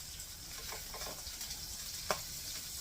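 Two tablespoons of butter melt in a pan with cooking hamburger steak, a faint, steady sizzle with soft stirring and one brief clink near the end.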